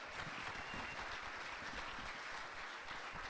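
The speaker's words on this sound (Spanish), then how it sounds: "pido otro aplauso por el acto de generosidad" A seminar audience applauds with a steady, dense patter of clapping that carries on throughout, fairly faint and heard from a distance.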